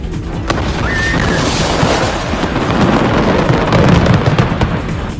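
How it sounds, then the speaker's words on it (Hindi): A house storing firecrackers blows up in a loud, sustained roar of blasts and crackling bursts, continuous rumble and popping filling the whole stretch with no pause. "कुछ ही सेकंड में पूरा का पूरा मकान धमाके से उड़ गया।"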